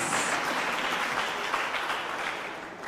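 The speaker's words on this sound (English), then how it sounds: "Let's give them a round of applause." Steady round of applause from a school audience at a Ghanaian national Bible quiz contest, dense and continuous for about three seconds, fading slightly toward the end with no talk over it.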